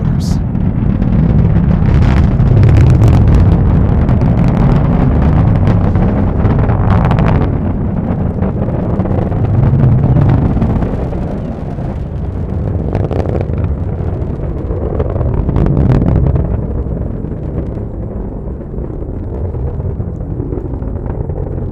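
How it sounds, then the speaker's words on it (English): An Atlas rocket climbs away from Cape Canaveral on its RD-180 engine and two solid rocket motors, a heavy, rumbling roar that crackles and swells in waves while slowly fading over twenty seconds. "Let's listen to the roar of that RD-180 engine and those two solid rocket motors."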